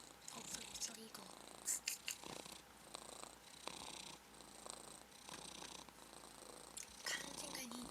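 A cat purrs softly into a nearby microphone in a quiet, intimate recording, a low, rhythmic rumble broken by faint clicks and small rustles.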